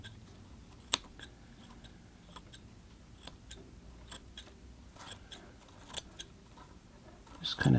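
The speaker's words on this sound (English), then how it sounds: "I'll come in here with the scissors and just prune away any roots that are kind of sticking above the soil line." Small scissors snip away at the roots of a climbing aloe bonsai, a series of quiet, crisp clicks spaced irregularly across several seconds, close by and mostly alone, ending in a soft rustle of handling.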